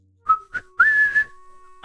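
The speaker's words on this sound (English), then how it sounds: "I can't whistle very well, but I can whistle." A person whistles alone in a quiet room: two short chirping notes followed by a longer sustained tone, close and fairly thin.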